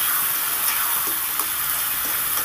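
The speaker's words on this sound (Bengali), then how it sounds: "এবার দিয়ে দিচ্ছি পরিমাণ মতো হলুদ, ভালো করে নেড়ে চেড়ে আমি কষাতে থাকবো" Chicken pieces with ginger, garlic and turmeric stir-fry in a pan, giving a steady loud hiss of sizzling oil with faint scraping of the spatula.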